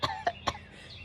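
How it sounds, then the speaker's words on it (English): A child-friendly cartoon elephant coughs three times in quick succession, short close bursts that fade into quiet. "When you cough,"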